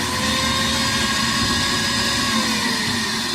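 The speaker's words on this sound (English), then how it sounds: "There go that vacuum again." A small shop vacuum runs loud and continuous inside a semi truck cab, with a steady whining motor drone and airy rush that never changes.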